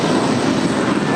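A 23-year-old Boeing 747-400 airliner on the runway at LAX, its engines giving a steady, loud, broad roar throughout the short stretch.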